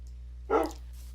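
A single short dog bark from a pet dog in the video game Minecraft, one clear mid-level woof over a quiet steady hum.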